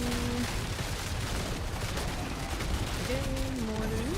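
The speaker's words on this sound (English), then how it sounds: "Again, mortars." Mortar blasts from the Diablo IV game crash in a dense, continuous barrage of booming explosions, loud and close throughout, with a thin tonal effect sounding near the start and again near the end.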